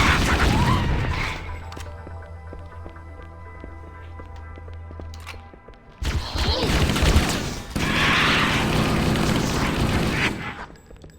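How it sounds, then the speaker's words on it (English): Automatic assault rifle fire in Halo: Combat Evolved, loud sustained bursts with rattling mechanical clatter, a quieter stretch in between, then heavy firing resumes. "Halo 1 assault rifle, just go burr"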